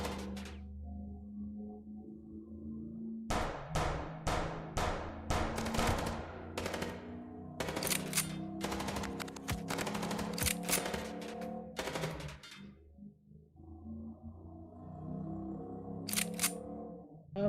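Bursts of gunfire in the Chicken Police video game, sharp repeated shots in rapid clusters over a steady engine-like drone, pausing briefly before a final few cracks.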